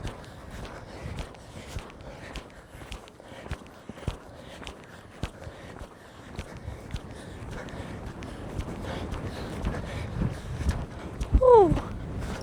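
A horse lopes along outdoors, its hoofbeats landing as a steady run of rhythmic dull thuds on the ground with light wind noise, and a brief high squeak or call near the end.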